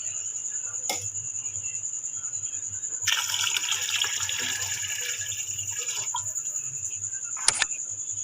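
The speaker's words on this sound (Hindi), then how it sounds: "1 किलो चावल में हम डालेंगे तकरीबन 2 लीटर या पौने 2 लीटर पानी।" Water poured into a pot of about one kilo of washed rice for aloo matar pulao, a steady splashing pour rising for several seconds at moderate level over a constant background hum, with a brief knock near the end.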